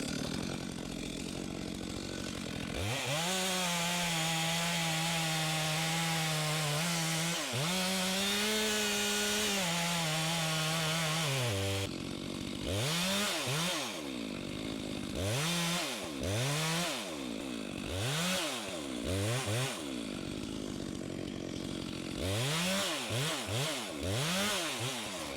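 A chainsaw cuts slowly into a tree trunk for the back cut during a roped tree removal, its engine snarling loud and steady with rising pitch, then pulsing in repeated revving surges as the bar bites deeper, close and continuous throughout.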